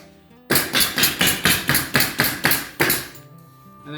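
Nails hammered into two laminated sheets of 18mm plywood, struck in a steady run of about ten sharp, loud, close blows with even spacing, then silence.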